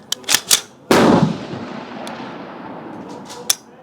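A single sharp, loud Fightlite SCR rifle shot at an outdoor range, its report echoing and decaying over a couple of seconds, preceded by small clicks and followed by a faint distant shot.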